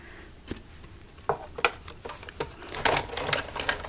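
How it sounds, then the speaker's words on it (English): Paper flowers being dry embossed in an embossing machine give off a string of close, irregular clicks and clacks as the folder is handled and pressed, growing busier toward the end. "Close that up, and then I'm just going to dry emboss these"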